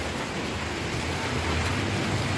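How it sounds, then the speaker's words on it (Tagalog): Sudden rain pours down outdoors as a dense, steady hiss of drops, loud and unbroken throughout with no voices. "Ay, biglang umulan."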